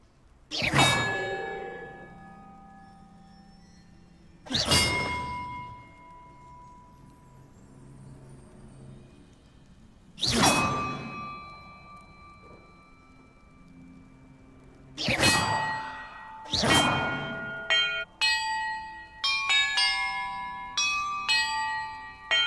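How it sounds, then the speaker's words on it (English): Bells struck one at a time in the video game Hogwarts Legacy, loud clanging tones that ring out and decay, spaced several seconds apart, then a quicker run of lighter chimes toward the end. "Perhaps the map contains clues about the order I'm supposed to ring the bells in."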